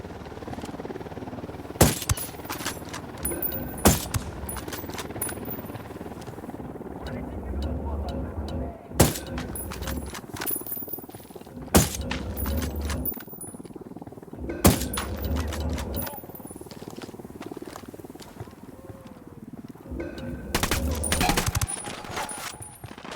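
Enemy gunfire in Ghost Recon Wildlands during a firefight: scattered loud gunshots and short bursts strike at irregular intervals over a rumbling battlefield bed, with voices talking in the background.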